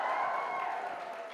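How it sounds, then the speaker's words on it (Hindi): Audience applause at a stage event at Kranti Utsav 2026, a steady dense wash of clapping from a crowd, fairly far off and even in level for the whole stretch, with no voices standing out. "एक बार जोरदार तालियां हमारे प्यारे भभूति मिश्रा जी के लिए।"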